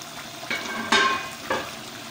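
Degi korma with yogurt sizzles in a pot as the lid comes off, with bursts of frying hiss and stirring sounds in three distinct surges, close and loud, without talk.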